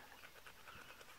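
A dog pants quickly and softly in a garden, with rapid, faint, rhythmic breaths close by and no talking.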